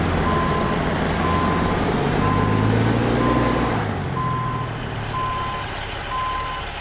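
Reversing beeps from a truck backing up to a trailer in American Truck Simulator, a steady evenly spaced beep loud over the rumbling engine and road noise, with a brief air-brake-like hiss partway through.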